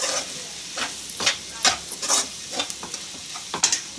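Onion pieces fry in hot oil with chili powder in a pan for a dondakaya (ivy gourd) fry, a soft continuous sizzle broken by repeated scraping stirs, close and fairly quiet.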